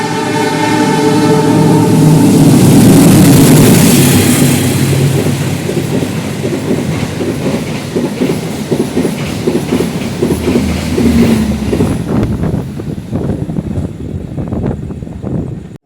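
A loud Turangga train rushes past close by, overtaking from aboard the Majapahit train, rumbling and roaring with rhythmic clattering of wheels on rails, then fades out.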